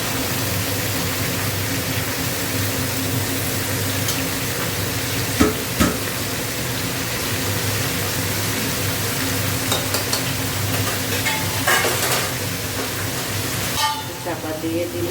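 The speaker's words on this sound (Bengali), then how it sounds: "এবার সবজিগুলো সব দিয়ে দিচ্ছি।" Mixed vegetables go into a hot pan and fry with a steady loud sizzle, broken by scraping stirs and a few clinks, with brief talking over the cooking.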